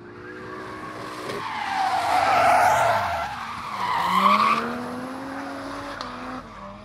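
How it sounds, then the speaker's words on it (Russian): Cars drifting at a drag-and-drift festival on an airport grounds in Ivanovo, with loud sustained tire squeal and revving engines swelling in two long passes, no talk. "На территории аэропорта Иваново прошли соревнования по дрэг-рейсингу и дрифту."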